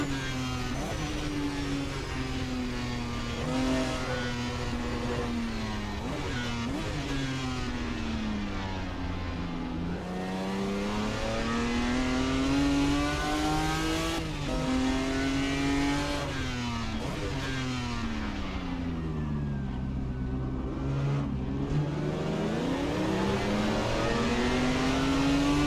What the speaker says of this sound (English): Corvette going past.